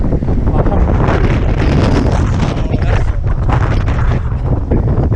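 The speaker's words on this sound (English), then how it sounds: "I had to stop there, that was so gusty." Gusty wind buffets the microphone while riding a bike, a loud, rough, fluctuating rumble that fills the whole stretch without clear speech.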